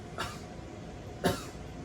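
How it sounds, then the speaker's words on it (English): Two short, soft coughs from one person, spaced about a second apart in a quiet room, each a brief breathy burst with nothing else sounding. "I want you to do a little cough for me"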